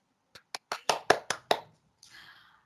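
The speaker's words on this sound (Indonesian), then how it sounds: "Oke, tepuk tangan dulu." Students clap hands in seven separate, distinct claps at a quickening pace, close and clear, followed by a brief soft rustle.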